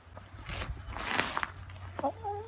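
Free-ranging backyard hens and a rooster cluck in short bursts, close and moderately loud, with a few sharp calls and light footsteps or rustling among them.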